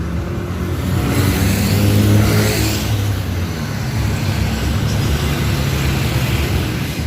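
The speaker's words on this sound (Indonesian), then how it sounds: "Di jam 5 lebih 50 menit ini dia bus Bagong Jos Ngaleh" A packed Bagong Jos intercity bus, arriving from Kediri, pulls in at a busy roadside stop in Braan on a Monday morning, its engine swelling loudly and then rumbling steadily close by.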